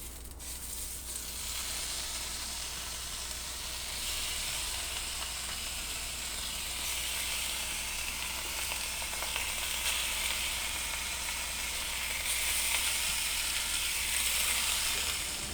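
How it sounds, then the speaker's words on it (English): Thick-cut bacon strips sizzle in a hot frying pan, a dense, continuous close crackle and hiss that swells slightly louder toward the end, with no voices. "let's put our bacon in."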